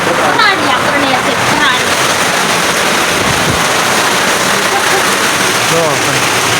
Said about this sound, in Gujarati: વરસાદ ધોધમાર પડે છે હો